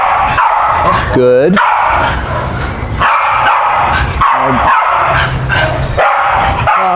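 A dog named Sadie barks repeatedly at a fence line on a ranch, sharp close barks and yips with a whimpering tone, mixed with a person talking nearby.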